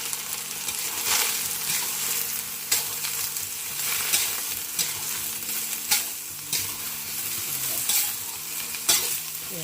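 Luffa gourd stir-fried in a hot pan, a steady loud sizzle broken by repeated scraping strokes of a spatula roughly every second, close up with no voices.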